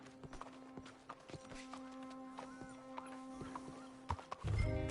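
Horse hooves from the video game Red Dead Redemption 2 clop in a steady rhythmic gait, moderately close, over a faint tonal hum, ending with a burst of louder rustling noise.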